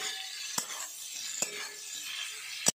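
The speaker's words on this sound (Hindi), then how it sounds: "इसमें आलू मिला के अच्छे से मिलाएंगे, उसमें परवल भी मिला देंगे।" A spoon scrapes and stirs potato and pointed gourd through masala curry in a pot, with a soft sizzle underneath and three sharp metallic knocks against the pan.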